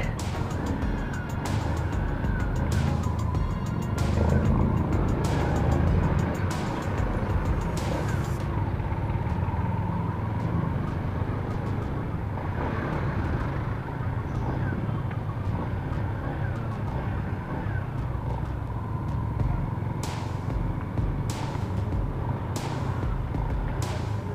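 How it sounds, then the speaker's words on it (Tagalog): Busy road traffic with steady car and motor vehicle rumble, passing vehicles and occasional sharp clatters, continuous and moderately loud throughout, with faint voices in the background. "Ay, kahit saan traffic."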